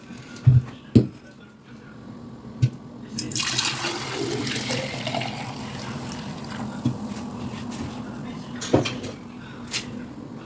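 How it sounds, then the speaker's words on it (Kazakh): Hibiscus (karkade) tea drink being strained and poured into a vessel, a steady watery rush lasting several seconds after a few sharp knocks of the container, with occasional clinks near the end. "Енді сусынымызды ыдысқа құямыз."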